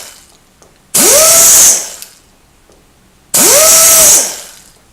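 A power tool dressing the edge of a small metal nut for a model engine greaser on the Spirit of St Louis whines up in two loud, close bursts of about a second each, with quiet pauses between.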